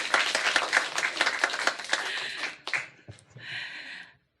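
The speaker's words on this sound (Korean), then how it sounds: "저를 사랑하는 마음이 있으시다면 박수 주십시오." A church congregation claps in a dense, rhythmic burst for a couple of seconds, then the applause thins out and trails off into scattered claps and rustling.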